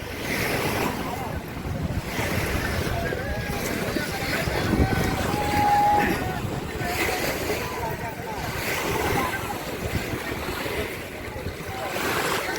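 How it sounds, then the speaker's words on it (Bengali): Sea waves wash onto Alexander beach at Ramgati, Lakshmipur, where trawlers sit offshore, and steady wind buffets the microphone in rolling gusts while a person talks over the surf. "এখানে রয়েছে নির্মল বাতাস, বাতাসের সাথে সাথে সমুদ্রের ঢেউ।"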